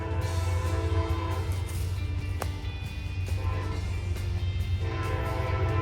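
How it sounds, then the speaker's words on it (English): An Amtrak passenger train rumbles past close by in Peekskill, New York, with a heavy, steady low roar and a sustained horn-like tone, the noise holding loud throughout. "we're going to catch a nice Amtrak train going by shortly"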